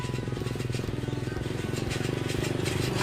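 A motorbike engine idles or putters at steady close range during the loading of dragon fruit harvest onto pickups and motorbikes, a regular low throbbing pulse running unbroken throughout with faint voices mixed in.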